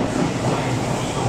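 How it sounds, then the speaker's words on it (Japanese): A Kintetsu Kashihara Line train rolls slowly into a depot siding at Yamato-Saidaiji, giving a steady, close rumble of wheels and running gear with no clear clacks or squeals. "車庫線へと入っていきました。"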